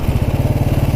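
A 1929 Ariel motorcycle engine runs at steady revs, a rapid even low-pitched thumping beat close up and loud.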